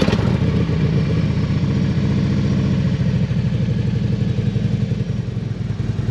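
A Harley motorcycle engine runs steadily with a loud, close, even throbbing idle and a slight rise in revs as it rides off, with no voices over it.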